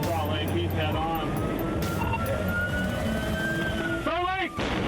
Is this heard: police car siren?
yes